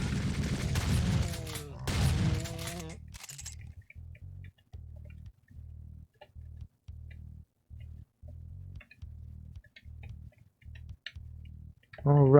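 Chaingunner enemies in Doom fire in steady rapid bursts, a long run of evenly spaced clattering shots after a louder, busier opening, then a sudden loud burst at the very end.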